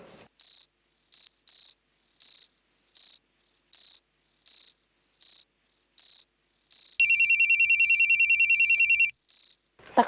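A telephone rings steadily for about two seconds near the end of the scene in a Kannada TV serial, loud and close over a constant, pulsing chirp of crickets.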